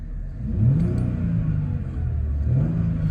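A 2001 Mercedes-Benz SLK 320 roadster's V6 engine revving up twice from idle, each rev a smooth rising rumble that holds and settles, close and fairly loud, with no talking.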